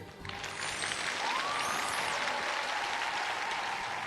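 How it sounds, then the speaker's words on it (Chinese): Studio audience applauding to welcome a guest director on a television show, a steady wash of clapping under music, fairly soft and continuous throughout. "让我们掌声欢迎著名导演郭靖宇"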